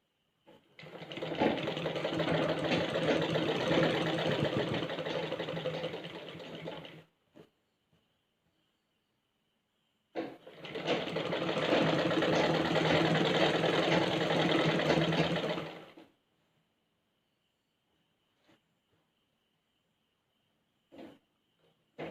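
A sewing machine stitches a semi patiala pant in two long, steady runs of rapid mechanical whirring, each several seconds long, separated by silence and a few faint clicks; close and loud.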